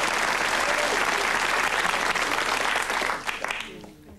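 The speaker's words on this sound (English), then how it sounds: "Round of applause for the first time there." Studio audience on a 1980s British charades game show claps steadily for a debuting contestant, a full dense round of applause that tapers off in the final second.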